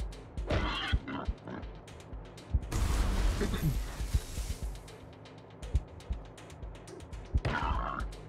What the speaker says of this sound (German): Was ist denn das hier? Ein Bombenschwein oder sowas, ne?